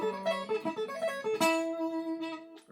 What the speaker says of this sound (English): tip number 6 is to practice this sweep picking pattern in reverse.